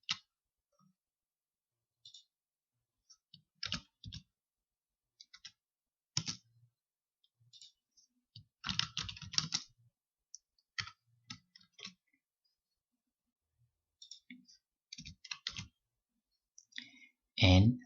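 Sparse computer mouse clicks while working in Microsoft Word, single and double clicks scattered irregularly across quiet silence, close and crisp.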